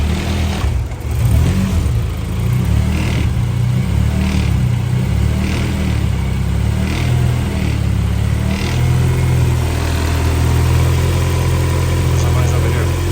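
A Honda Civic K24 engine, a 2001 car's auto-to-manual swap, idles steadily nearby with a loud, constant low rumble and a few faint revs, loud and unbroken throughout with no voices.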